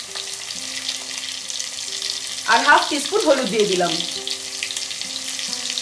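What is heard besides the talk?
potato pieces frying in mustard oil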